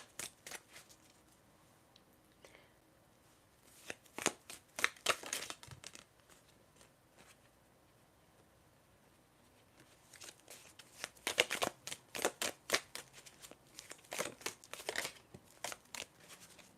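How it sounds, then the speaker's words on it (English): Tea leaf cards shuffled by hand for a tarot reading, soft papery riffles and slaps coming in two clusters of bursts with quiet gaps, close and gentle. "I'm going to shuffle now some tea leaf cards for you to end off your reading"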